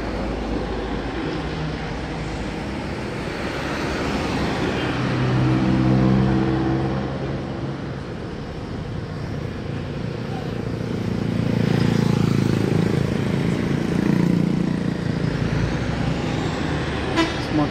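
Bus fitted with a Mercedes-Benz engine and Laksana SR2 coachwork pulls away from a roadside restaurant, a loud, steady engine roar swelling and easing as it moves off, with a horn-like tone standing out over the drone.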